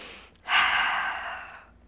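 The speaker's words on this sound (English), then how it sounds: "Breathe deep." A single deep breath during a Pilates shoulder-balance exercise, legs lifted toward the ceiling: a short pause, then a long, soft airy exhale that gradually fades, close and quiet.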